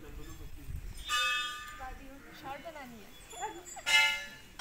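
Bells at a Hindu temple in Nainital, Uttarakhand, ring in two brief bright strikes with lingering metallic tones, fairly faint beneath a voice talking.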